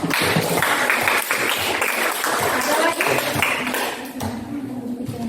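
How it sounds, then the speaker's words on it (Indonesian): An audience at a teachers' academic presentation gives a burst of clapping that stays dense and even for several seconds before thinning out, with voices mixed in. "Oke, kasih aplaus untuk."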